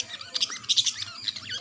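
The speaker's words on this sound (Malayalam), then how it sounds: "നല്ല ചിലമ്പലിങ്ങനെ കേൾക്കുമ്പോൾ നല്ല രസമല്ലേ കേട്ടുകൊണ്ടിരിക്കാൻ" Pet lovebirds chirp in quick, high, twittering bursts at close range, several short calls overlapping in an uneven rhythm against a quiet background.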